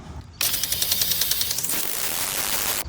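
An Orbit Yard Enforcer 62100 motion-activated sprinkler bursts on abruptly and sprays loudly for over two seconds, a bright water hiss with a rhythmic ticking pulse running through it.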